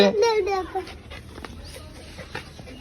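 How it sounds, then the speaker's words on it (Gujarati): A dog gives a brief, high, wavering whimper at the start, close by, then it fades into the quieter background of a home where people are talking. "અરે મારો ડોગ છે"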